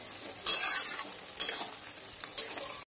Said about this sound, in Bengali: পেঁয়াজ আর ক্যাপসিকাম গুলো ভাজা হয়ে গেছে